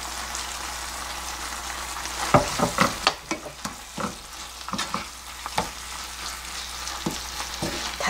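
Mapo eggplant sizzles and crackles as it is stir-fried in a pan. Irregular scraping and stirring knocks from a spatula punctuate a steady frying hiss.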